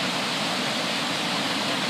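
A waterfall in Hamilton roars as a steady, loud broadband rush of falling water, constant and unbroken with no voices over it.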